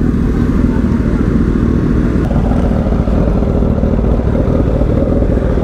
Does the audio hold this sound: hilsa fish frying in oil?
no